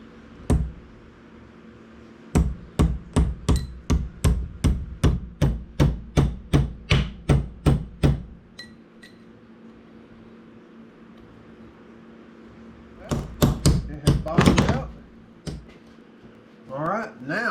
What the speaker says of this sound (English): Let me go ahead and drive the roll pin back in.